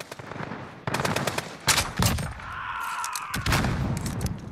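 A Barnett Headhunter Hybrid fires in Call of Duty Modern Warfare: several sharp, close, loud shots spread over a few seconds, each a hard crack with a short ringing tail.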